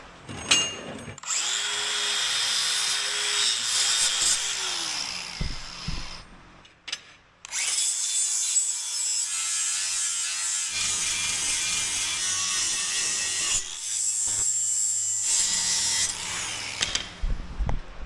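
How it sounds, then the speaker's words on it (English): An angle grinder works a steel junkyard axle tube in loud, close bursts, whining through long grinding passes that stop briefly and then resume, with no talking. "if you take your grinder and you run it 90 degrees of your tube"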